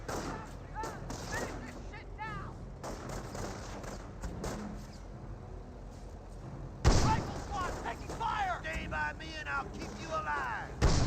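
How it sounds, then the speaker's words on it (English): A Hotchkiss tank in the World War II strategy game Company of Heroes fires several booming shots amid battle explosions and gunfire, while a caster talks over the action throughout. "Hotchkiss fires some shots there"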